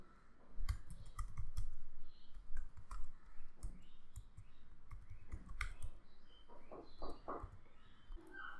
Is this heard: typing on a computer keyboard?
yes